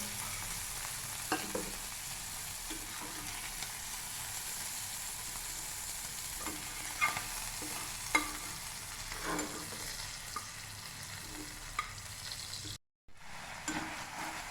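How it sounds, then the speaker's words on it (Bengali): Prawns fry in a pan with a constant low sizzle, punctuated by scattered taps and scrapes of a spatula stirring them, fairly quiet, cut by a brief silent gap near the end, no talk. "ভালোভাবে ফ্রাই করে নেব। চিংড়ি মাছটা ফ্রাই হয়ে গেছে"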